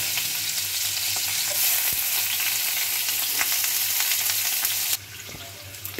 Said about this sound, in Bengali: পেঁয়াজটা ভাজার সময় এর মধ্যে একটু লবণ দিয়ে দিলাম, দিয়ে পেঁয়াজটা ভেজে নেব